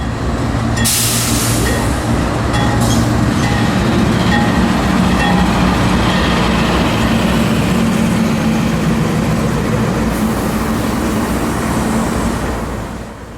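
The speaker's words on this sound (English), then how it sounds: "Here's an example of a mixed freight in the 400 series, Q453, rolling southward through downtown Lakeland, Florida." A CSX mixed freight train rumbles steadily past at close range through downtown Lakeland, Florida, with continuous wheel and rail noise, metallic squeals and clatter, loud throughout.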